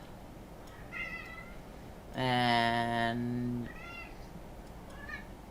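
A male house cat meows loudly in one long, drawn-out call, with softer, shorter mews before and after it, close to the microphone in a quiet room.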